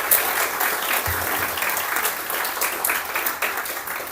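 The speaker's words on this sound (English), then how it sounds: "While you're still clapping, Jessica did a great job with Halloween. Can you give it up for her?" An audience applauding Jessica at a coffee and conversation gathering, steady, dense clapping from many people throughout, fairly loud and close.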